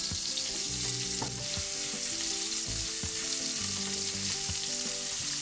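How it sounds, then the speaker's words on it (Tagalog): Ginger sautés in a frying pan, a loud continuous hiss and crackle with a few stirring knocks, all under persistent background music. "Ang next step natin ay ang paggisa gamit ang same na kawali. Umpisa na natin sa ating ginger."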